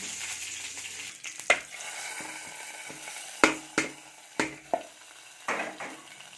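Curry leaves and garlic sizzle in a tempering for brinjal kadayal, a low frying hiss punctuated by a handful of sharp stirring clinks and scrapes against the pan, close by.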